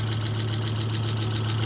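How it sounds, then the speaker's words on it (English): Volvo 850 T5R engine idling with a tappet noise, a steady low hum with a faint fast ticking over it, close and unbroken for the whole stretch. "it's a little bit of noise in the tappet"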